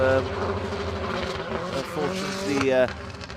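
A rally car at the Harlech Stages races past with its engine roaring and changing pitch, loud and close, while a commentator talks over it.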